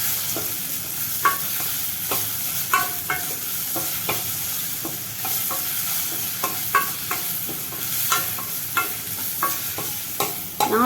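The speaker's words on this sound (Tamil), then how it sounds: "இப்போ இதை வதக்குவோம்." Karpooravalli banana slices are sautéed in ghee, a continuous soft sizzle under repeated clicking scrapes of a spatula against the pan at an uneven rhythm, with no voices.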